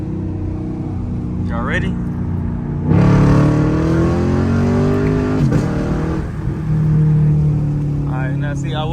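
A Camaro SS V8 engine drones inside the cabin during a night drive, swelling louder midway as revs rise and then easing back, with someone talking briefly over it.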